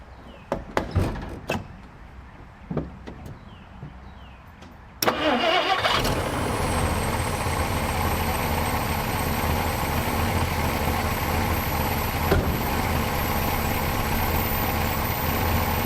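A few clicks and clunks, then a 1959 Plymouth engine cranks and catches at once, settling into a steady, rumbling idle that continues close by.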